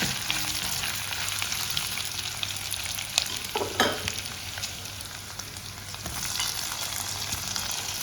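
Onion, ginger and garlic sautéing in a pan with tomatoes being added, giving a steady soft sizzle with scraping stirs and a brief clatter in the middle, moderately quiet and close.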